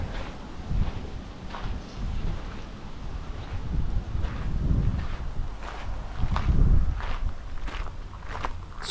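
Fierce wind buffets the microphone outdoors at Gettysburg, a constant low rumbling roar with gusty surges, mixed with footsteps crunching along as someone walks.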